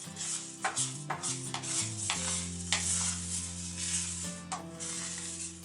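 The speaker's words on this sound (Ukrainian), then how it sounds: "Тому ми її постійно помішуємо" A thick banana mixture is stirred steadily in a pot, giving soft, rhythmic scraping strokes over a low bubbling, close and quiet.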